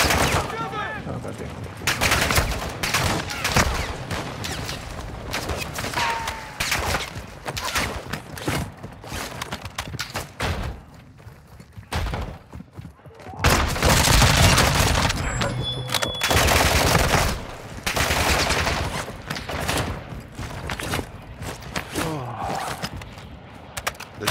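Video game gunfire in an online shooter mission, repeated bursts and rapid volleys of shots running throughout, loud and dense with brief pauses, with players talking over it.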